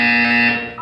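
A short, loud electronic buzzer tone from the video game Portal 2, steady and harsh, sounding once and fading slightly at the end.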